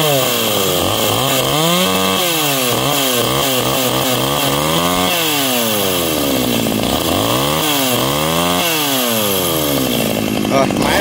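Stihl-type G410 chainsaw cutting through a huge raintree (cây còng) trunk, engine loud and close, revving up and bogging down repeatedly in a steady rise-and-fall pattern under load, with a voice speaking over it.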